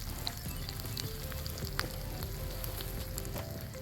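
Embers of a campfire quietly sizzling and hissing as the fire is put out, a faint continuous crackle with small pops and ticks.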